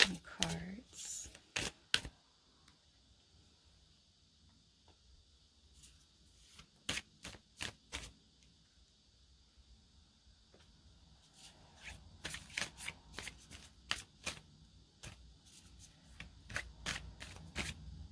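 A deck of oracle cards is shuffled in bursts of crisp riffling, a flurry at the start, scattered snaps mid-way and a dense run near the end, close and fairly quiet in a still room.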